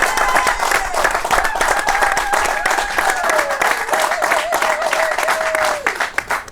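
A studio audience on a café-style talk show in Algeria breaks into loud, sustained applause and some cheering, carried under a held, wavering musical tone until it cuts off near the end.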